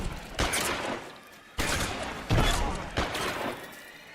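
Gunfire in the detective game L.A. Noire, set in 1940s Los Angeles: several loud broadband bursts of shots arrive in uneven clusters about a second apart, with a brief low thud among them and quieter rumbling in between.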